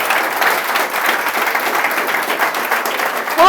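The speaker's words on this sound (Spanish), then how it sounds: "Un aplauso al Señor si te vas con Cristo." Church congregation applauding together in sustained, dense clapping that holds steady and fairly loud throughout, with a voice cutting in right at the end.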